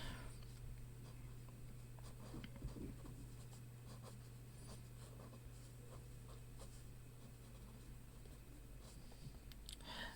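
A grey fineliner pen sketches on paper, making quiet, close scratchy strokes in short irregular bursts over a faint steady hum, with no talking.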